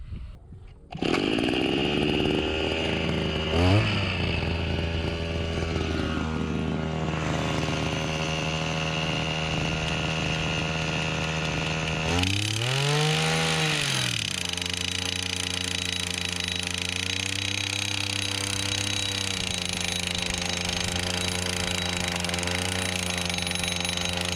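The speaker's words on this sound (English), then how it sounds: "just finished whacking in this first half of the posts, the motorised steel post driver" A motorised steel post driver runs steadily while fence posts are driven in, its engine droning loudly and continuously with a couple of swooping rises and falls in revs, close up and without voices.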